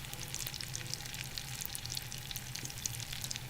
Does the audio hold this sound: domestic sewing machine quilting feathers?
no